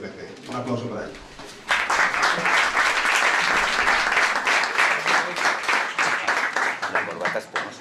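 An audience at a book presentation breaks into sustained applause after some talk in the room; dense, steady clapping from many hands continues to the end.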